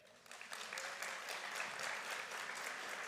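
A crowd at a spring college commencement ceremony applauds, a dense wash of clapping that rises quickly and holds steady and fairly loud for a few seconds, heard from within the hall.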